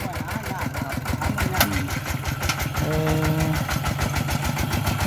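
A small walk-behind tractor engine idles steadily with a regular chugging pulse, close by, while people talk over it.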